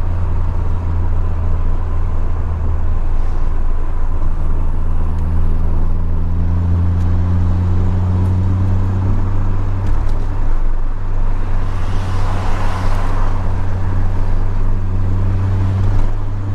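A 1987 Ford Sierra Cosworth RS500 drones loudly and steadily while driving, its engine note holding, then rising gradually as it pulls, heard close from inside the car with no talking.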